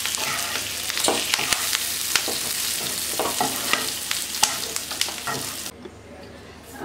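Vegetables frying in hot oil in a kadai on high flame give a loud, continuous sizzle broken by stirring scrapes. The sizzle drops sharply near the end.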